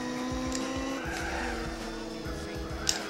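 Race car engine in the Gran Turismo video game, a loud close whine with harmonic revving rising and falling, accompanied by repeated tire squeals and skidding through a corner.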